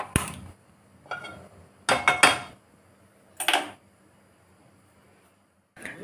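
Metal cooking pan handled in a home kitchen, giving several sharp clanks and knocks spaced across the moment, close and fairly loud, with quiet gaps between them and no talking.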